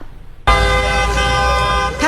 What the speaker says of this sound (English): Passers-by honk in support of signs like this one